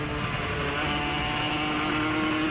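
Banshee-engined Yamaha YZF R3 race motorcycle on track, its two-stroke engine buzzing loud and rough in a continuous raspy drone as it breaks up and misfires.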